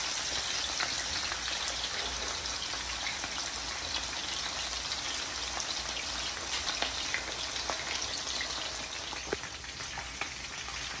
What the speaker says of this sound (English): So they've been frying for maybe about, what do you think, 5 minutes?